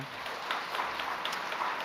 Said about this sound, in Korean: 이 은혜를 주시는 우리 권사의 찬양대 한번 박수 한번 보내드리며